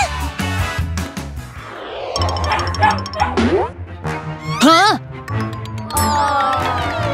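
A dog barks and yips in short bursts amid busy, overlapping talk and music-like tones, with jingling accents mixed in.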